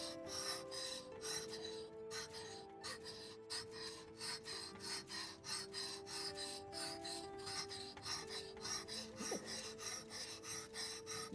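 A knife is drawn back and forth across a whetstone in quick, regular rasping strokes, close and soft, the gritty scraping repeating steadily over a faint background hum.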